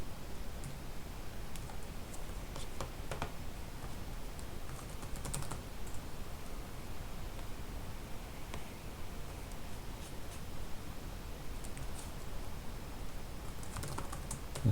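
Fingers typing on a computer keyboard, with quiet, irregular clicks and bursts of keystrokes over a low background hiss, some quick presses clustered together, fairly close.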